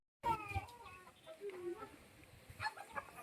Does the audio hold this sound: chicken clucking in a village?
yes